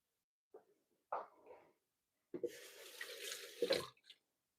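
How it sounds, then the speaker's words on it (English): Tomatoes rinsed under a running kitchen tap while a garden salad is being made, with short splashes followed by a steadier stream of water lasting about two seconds, close and moderately loud. "Give these a quick rinse."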